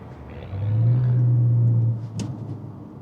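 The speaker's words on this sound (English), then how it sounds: "I do like the noise from that exhaust as it grips nicely into a corner" An Audi A4 DTM with 160,000 km on it cornering, its exhaust swelling into a loud low droning rumble for about a second and a half, then settling back to a steady hum.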